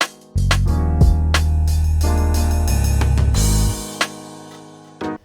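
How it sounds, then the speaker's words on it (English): Produced drum beat with realistic cymbals and ride hits over heavy sustained bass, steady kick-and-snare pattern with a crash swell near the end before it cuts out, loud and close, no talking. "Throughout the beat, I add a lot more realistic cymbals, rides, just to give it a bit more of a like live feel"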